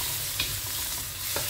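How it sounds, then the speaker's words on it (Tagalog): Celery, pork belly and cashew nuts sautéing in a pan, a steady soft sizzle with two brief scrapes of a utensil stirring through, close and continuous with no talk. "Paggigisa tayo ng celery with pork belly at saka cashew nuts."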